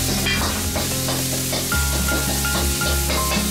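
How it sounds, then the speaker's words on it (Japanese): Chicken, vegetables and spices sizzling and hissing in a hot wok during stir-frying in a restaurant kitchen, with steady clatter and a low kitchen hum underneath. "厨房では店長自ら中華鍋を振るいます。"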